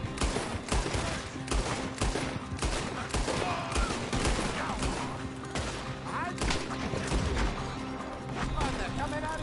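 Rapid overlapping gunfire crackles through a Red Dead Redemption 2 shootout while joining the sheriffs, dense bursts and single shots mixed with crashes, under a busy bed of game voices talking and shouting.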